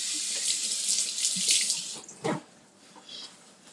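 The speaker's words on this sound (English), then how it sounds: "Wash my hands." A bathroom or kitchen tap runs steadily into a sink as hands are washed, a close broadband water hiss with brief splashes and a dip near the end as the flow slows.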